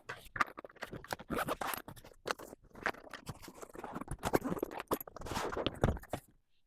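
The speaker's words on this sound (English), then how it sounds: "and I'm ready to zip this up." A packed suitcase is zipped shut in a series of close, scratchy zipper pulls, uneven bursts with brief pauses, loud and alone without any talk.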